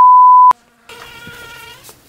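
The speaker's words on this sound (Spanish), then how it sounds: "Esta abeja de mierda." A single bee buzzes nearby with a steady insect drone lasting about a second, preceded by a short electronic beep and a moment of near silence.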